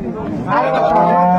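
A Holstein Friesian calf moos at a cattle market in Raniganj, Dinajpur, one loud, close, drawn-out bellow rising over faint crowd chatter.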